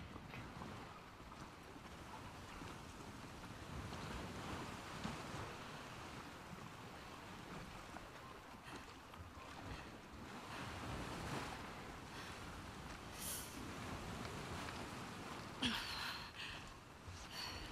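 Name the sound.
boat on ocean waves at ending screen, The Last of Us Part 2 video game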